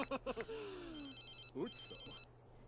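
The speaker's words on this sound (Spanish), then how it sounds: "¿A quién llaman? ¿A ti? Responder al teléfono." A telephone ringing in The Sims 3, a bright repeating electronic trill running through the background while people talk briefly over it.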